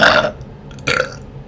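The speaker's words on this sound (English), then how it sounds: "It's like you gotta have a burp counter, bro." A single loud burp followed a moment later by a second shorter one, close to the listener with no talking over them.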